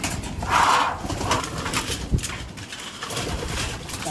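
Pigeons feeding close by coo in soft, low murmurs over a continuous rustling background, with a few throaty calls rising and fading and no voices.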